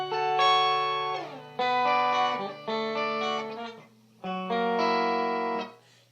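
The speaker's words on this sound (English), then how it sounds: "But the octaves with the micropod." Electric guitar through a Line 6 Micro POD with an octave effect, played as a series of sustained chords and notes with doubled lower tones, each phrase ringing then breaking off briefly, at moderate level with a slight low hum underneath.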